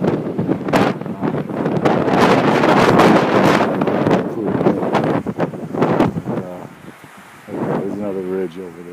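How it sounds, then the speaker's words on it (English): Strong wind buffets the microphone with loud, continuous rumbling gusts, while people talk intermittently underneath. "you can hear the wind."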